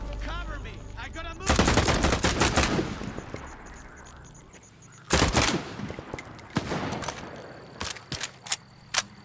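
Bursts of automatic rifle fire in the video game Stalker 2: Heart of Chornobyl, loud sustained volleys broken by short gaps, then a second long burst and several sharper single shots toward the end.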